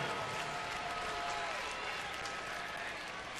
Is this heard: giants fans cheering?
yes